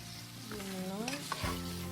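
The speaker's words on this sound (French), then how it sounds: "Je mélange." A utensil stirs broth with a seasoning cube in a pot for potato soup, a soft scraping and bubbling under a steady low hum.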